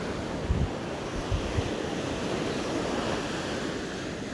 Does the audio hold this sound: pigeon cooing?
no